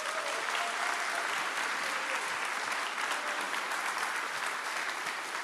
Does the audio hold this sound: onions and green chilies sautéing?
no